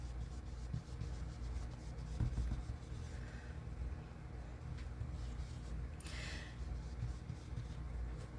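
A blending brush rubs over paper, leaving a soft, steady scratchy swish that runs continuously across the stretch, with a brief brighter rasp near the end, close and fairly quiet.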